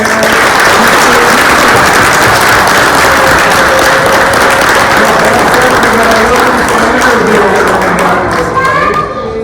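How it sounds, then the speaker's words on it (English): Sustained applause from a large gathering of preschool families at a school board meeting, loud and dense throughout, with faint voices and a child's speech emerging as the clapping fades near the end. "So let's give them all a round of applause."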